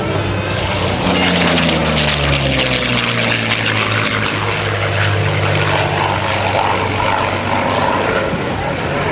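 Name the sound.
propeller aircraft engine at an airshow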